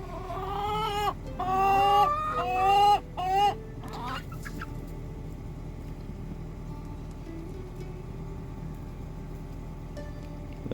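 Backyard hens near their coop and run cluck and squawk loudly for the first few seconds, then fall to faint scattered clucks over a quiet background hum.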